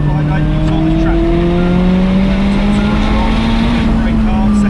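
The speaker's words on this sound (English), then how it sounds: "Let the car drift out wide and wide." A McLaren press car on a track, its engine note sliding upward steadily under loud, continuous road noise, with tyres scrubbing as the car drifts wide through a corner; a voice talks over it.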